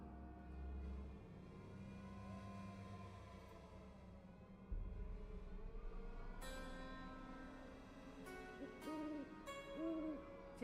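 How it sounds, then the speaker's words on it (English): An owl hoots in the game Nancy Drew: The Captive Curse, a creepy bird call that repeats a few times at moderate volume over ambient game music and a low drone. "Follow the sound of the creepy bird."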